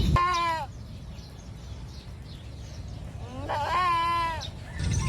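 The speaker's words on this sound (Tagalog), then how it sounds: "parang nadidinig ko yung kambing ko doon ah" A goat bleats twice, a loud wavering call at the start and another about three seconds later, close by with quiet farm ambience in between.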